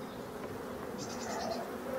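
A wild forest swarm of honeybees buzzing at a hive, a steady droning hum that stays close and fairly loud throughout, with a brief higher whine of a single bee passing near the middle.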